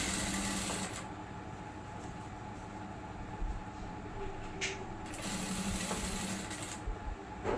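A sewing machine stitches a kurti neckline with a steady, continuous mechanical whir and clatter that stays close and even throughout, with a few brief clicks and thumps along the way.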